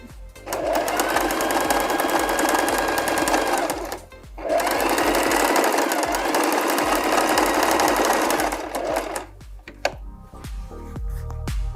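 A sewing machine stitches a fabric pocket onto the main garment piece in two long steady runs, loud and close, with a brief pause between them and a few soft handling knocks at the end.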